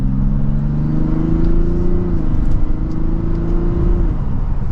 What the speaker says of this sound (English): it sounds decent when you give it an acceleration